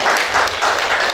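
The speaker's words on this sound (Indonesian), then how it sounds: "Tepuk tangan buat beliau" An audience at a school education talk show claps for the head of the regional education office, giving a brief burst of loud, dense applause with no talking.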